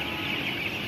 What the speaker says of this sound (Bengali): দেখতে পাচ্ছেন মুরগিগুলা পানি খাচ্ছে।